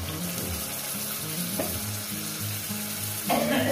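Masala paste with fried onions sizzles steadily in a pan for chicken kosha, a dense continuous crackle with a low rumbling hum and a louder burst near the end, no voices.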